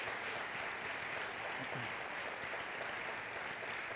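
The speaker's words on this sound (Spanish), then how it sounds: "dale tu mejor aplauso al Señor" A church congregation applauds during a worship service, a dense, continuous wash of many hands clapping together that stays steady and full from start to finish, heard from within the room with no voice over it.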